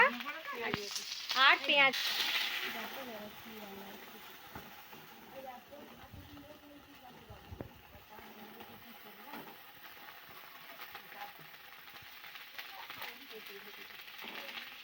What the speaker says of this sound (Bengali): গরম তেলের ওপর দেওয়া হয়েছে আদা বাটা, রসুন বাটা